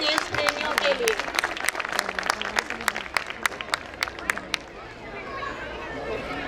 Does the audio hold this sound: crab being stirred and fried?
no